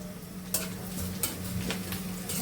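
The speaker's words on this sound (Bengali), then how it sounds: "পেঁয়াজ আর পাঁচ শুকনো মরিচ ভেজে নিচ্ছি" Onion and five dried red chillies frying in a pan, a quiet continuous sizzle with a few light stirring taps and clicks, fairly faint and close.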